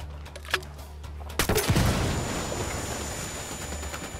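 Gunfire in Ghost Recon Wildlands, a sharp close burst of shots followed by sustained, noisy firing and rumbling over game ambience, loud and continuous after the opening cracks.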